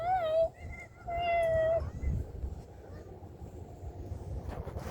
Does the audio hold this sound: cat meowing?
yes